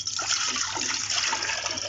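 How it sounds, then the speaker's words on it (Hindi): One litre of water pours into a pressure cooker in a steady, splashing stream that runs continuously for about two seconds, close and fairly loud, with no talking. "एक कुकर में हम डालेंगे 1 लीटर पानी।"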